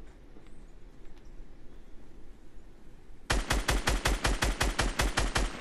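Players shooting each other in the video game Fortnite: after a few seconds of quiet game ambience, a rapid, loud burst of automatic gunfire erupts, a dozen or so sharp shots in quick succession.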